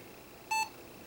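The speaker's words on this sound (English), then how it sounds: "There's the beep." Single short electronic power-on beep from a newly built PC in a new case, a clean tonal chirp lasting a fraction of a second against a quiet room background.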